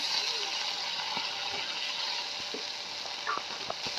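Oil splutters and crackles in a pan over a wood-fired stove, with a soft continuous sizzle broken by scattered sharp pops, fairly quiet and without talk.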